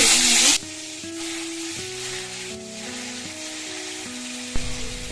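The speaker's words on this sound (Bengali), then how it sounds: "এই দেখো বন্ধুরা বেগুনটা তেলের মধ্যে দিয়ে দিলাম" Eggplant slices hit hot oil with a sudden loud sizzling burst, then settle into a steady, softer frying hiss over faint tonal background music.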